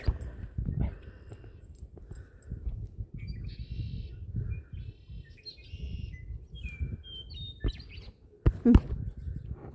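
Small birds chirp in short, scattered tweets over a quiet outdoor background, with a few louder rustles and thumps nearby toward the end.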